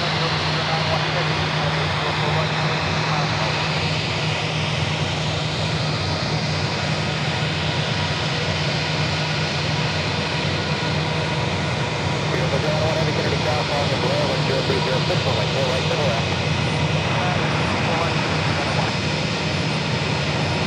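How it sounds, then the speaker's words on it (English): A JetBlue Airbus A320 arriving from Tampa, Florida at JFK gives a continuous moderate jet rumble with a steady low hum, shifting slightly in the middle and persisting throughout. "It's JetBlue Airways Flight 225 coming in from Tampa,"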